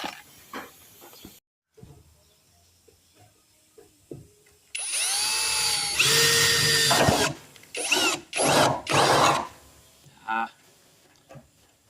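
A power drill fitted with a cobalt drill bit whirs in several bursts, the longest rising in pitch as it bites into material, separated by quieter handling noises and pauses.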